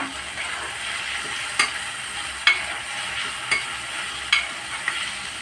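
Chopped tomatoes are stirred into onions frying over a high flame for egg bhurji, giving a steady close sizzle broken by sharp, periodic scrapes and knocks of the spatula against the pan.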